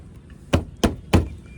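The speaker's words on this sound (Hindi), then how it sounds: "ये देखो आप बम्पर में आवाज़ आ रही है आपको, प्लास्टिक की आवाज़ आ रही है भाई, ये प्लास्टिक का बम्पर है।" Three sharp knocks on the plastic rear bumper of a 2017–2018 Maruti WagonR, evenly spaced and close, each a hollow thud over a quiet background.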